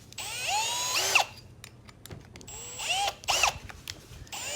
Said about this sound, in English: I'll take my drill